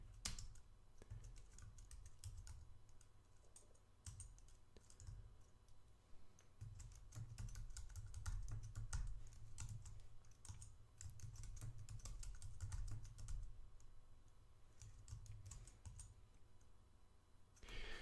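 Keys clatter on a computer keyboard as a password is typed at a Linux terminal, with irregular bursts of close clicks and brief pauses, no talking.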